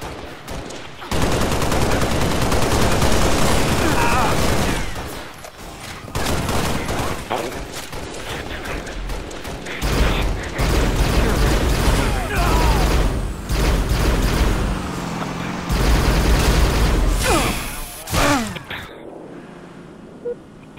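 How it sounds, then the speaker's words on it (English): Rapid bursts of shotgun and automatic gunfire crash around a Warthog vehicle in the Halo video game, loud and dense, broken by short pauses and a voice speaking between volleys. "I'm getting shotgunned in a warthog"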